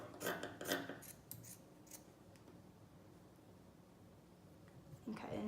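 Scissors cut through fabric for a handmade dog toy, with a cluster of quick, close snips and rustles near the start. A quiet stretch follows, then more handling and cutting noise at the end.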